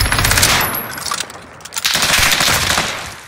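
Rapid bursts of gunfire from the video game Warzone crackle loudly and almost continuously, with a brief lull midway before the shooting picks up again.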